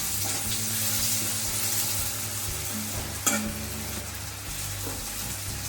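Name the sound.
onions frying in a pan for mutton rogan josh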